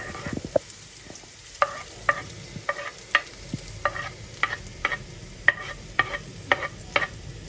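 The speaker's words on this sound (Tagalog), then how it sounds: "Gisa ko lang yung style adobo natin" Garlic sautéing in a pan for adobo: a steady sizzle of frying under repeated sharp scraping strokes of a utensil stirring, roughly one or two per second, close and moderately loud, with no talking.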